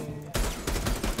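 Video game gunshots come in three loud bursts after a brief quiet opening, each a rapid volley of sharp, close cracks separated by short pauses.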